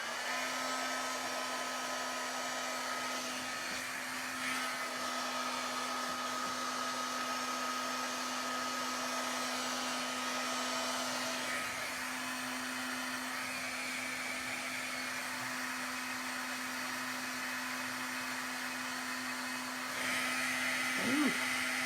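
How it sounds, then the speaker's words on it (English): A heat gun blows continuously for card embossing, a loud, steady close whine with a constant hum that runs unbroken for about twenty seconds. "let me get this heat gun going"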